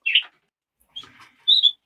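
Border canaries sing in a bird room, with three short bright chirping phrases separated by brief silences, fairly close and clear with no talking.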